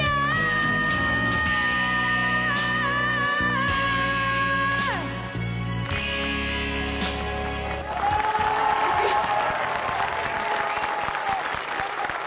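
A Czech TV music show audience breaks into applause as a song finishes. Sustained sung and instrumental notes fade out, then dense, close clapping fills the last few seconds.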